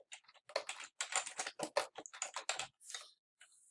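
Computer keyboard typed on up close while writing code, a quick irregular run of crisp key clicks in short bursts with brief pauses, no talking.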